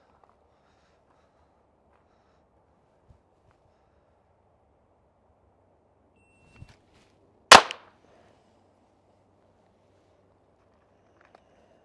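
Single sharp crack of a Glock 44 .22LR pistol fired in a draw-to-headshot drill at 7 yards, one loud report after a soft click, the rest of the clip nearly silent outdoors with faint ambient hum.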